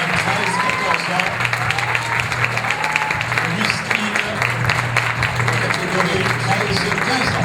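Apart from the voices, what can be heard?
audience applause for contestants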